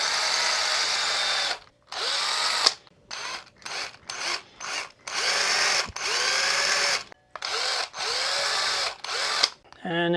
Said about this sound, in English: now we're ready to drill, and I'm going to do what everybody hates to watch me do